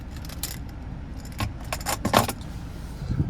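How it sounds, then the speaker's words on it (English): Key fob with remote start for a 2023 Ford Edge SEL AWD 2.0T, jangling close up in a few bright metallic rattles and clinks over a low vehicle rumble. "here's your key fob with remote start"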